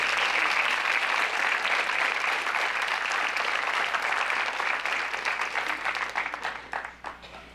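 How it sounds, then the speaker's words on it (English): A large audience at the Laurel 2022 academic awards ceremony claps loudly in a dense, steady ovation that holds for several seconds, then thins and fades toward the end. No one speaks over it. "If we could please give them a large round of applause."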